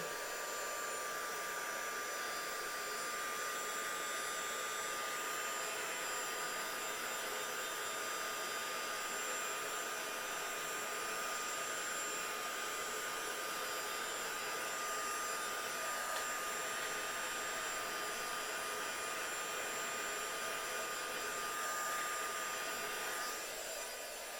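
A handheld heat dryer whirs steadily and closely for the whole stretch, drying mixed media ink on a handmade card, a constant loud hum and hiss with no talking.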